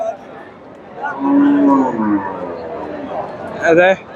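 Cows moo loudly nearby at a livestock market, a long low bellow followed by another short call, with people talking faintly in a busy outdoor background.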